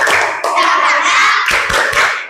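A class performs a rhythmic spirit clap chant, several bursts of group hand clapping and thumping in a patterned rhythm, with children's voices chanting along.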